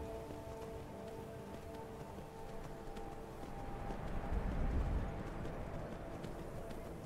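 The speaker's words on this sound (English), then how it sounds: "I like how the horse walks." A horse in Skyrim Special Edition walks with soft, steady hoof clops over a low continuous ambient hum, growing slightly louder toward the middle.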